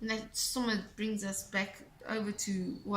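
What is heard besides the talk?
No everyday noises stand out.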